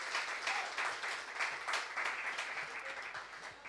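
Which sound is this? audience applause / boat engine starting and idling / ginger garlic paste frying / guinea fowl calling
audience applause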